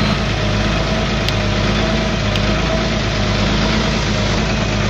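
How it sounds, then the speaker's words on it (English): Wirtgen W1200F cold milling machine running with its grinder engaged: a loud, steady low engine drone and mechanical hum, continuous and close throughout, with no talking. "I'll set my machine down with my grinder activated."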